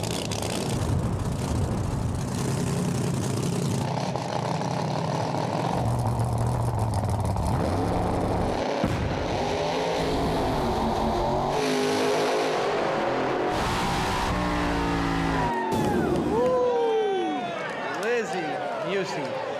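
Drag race car with a freshly installed motor at a no prep street racing event, engine rumbling and revving loudly and continuously throughout, with voices talking over it.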